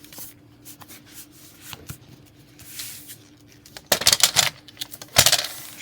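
Scissors or a trimmer cut away the overhanging edge of Echo Park patterned paper on a handmade card, a few quiet snips and rustles building to louder crisp paper cuts and handling noises near the end, close and without talking.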